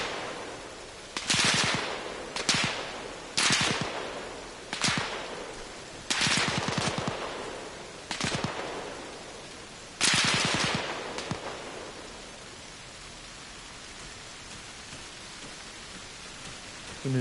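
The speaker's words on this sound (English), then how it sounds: "That's an MG nest." A machine gun nest rattles out sharp bursts of automatic fire in Arma Reforger, seven or so separate volleys spaced a second or two apart, loud and slightly distant with a reverberant tail, then quiet.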